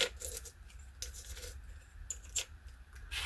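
Loose lens inside a telescope housing, held in a vise, rattling as the tube is shaken, a quiet run of small metallic clicks and ticks in uneven bursts, close and alone.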